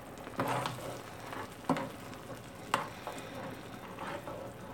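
A seafood boil with potatoes and corn simmers gently in a pot, giving a soft, steady bubbling hiss broken by a few faint ticks and pops, fairly quiet and with no speech.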